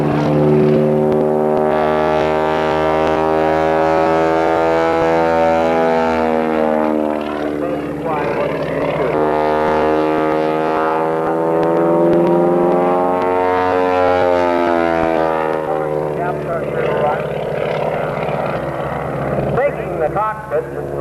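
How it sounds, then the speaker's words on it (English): A Pratt & Whitney R985 radial aircraft engine of 500 horsepower drones loudly and steadily at an air fair, its pitch rising and falling, with someone talking over it. "A Pratt & Whitney R985 that produces 500 horsepower."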